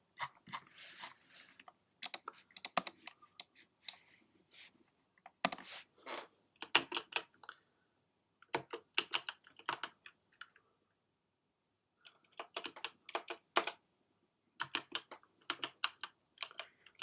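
Bursts of typing on a computer keyboard, clustered key clicks separated by short pauses, fairly close and moderately loud with no voices.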